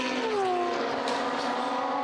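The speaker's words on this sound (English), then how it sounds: "So Charlie Hyatt is really hauling it now in the Chevron B31." A Chevron B31 race car engine at speed on the Imola circuit, a steady high-pitched whine with a falling pitch sweep early on as it passes, fairly distant and continuous.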